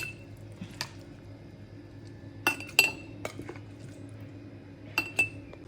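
Mango pickle is spooned into a clean, dry glass jar, with sparse bright clinks of spoon against glass and soft wet scoops in a quiet kitchen.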